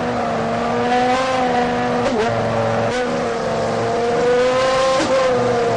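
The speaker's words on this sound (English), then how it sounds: "Racecar, we'd like to do a shift check now, please." A Formula One race car is revved during a gearbox shift check, its loud, sustained engine whine stepping abruptly through quick gear changes, close up and steady with no voices.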